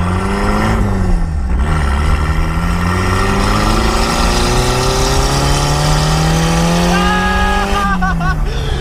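A turbocharged 1.8-litre Mazda Miata engine pulls hard through the revs as boost builds, a rising drone with turbo whine climbing steadily, briefly dipping at a shift and surging again, with a chirp of whistling near the end.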